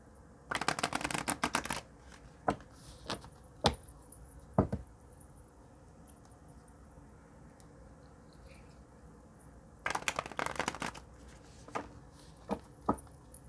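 A deck of oracle cards is shuffled close by in two bursts of quick riffling, each about a second long, with scattered single taps and card slaps between them over a quiet background.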